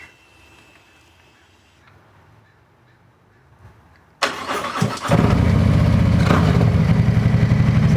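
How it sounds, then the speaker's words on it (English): A 2020 Harley-Davidson CVO Street Glide starts after a quiet pause with birds calling, the starter cranks briefly and the V-twin catches into a loud, close, steady idle. "let's just check it out and turn on the bike"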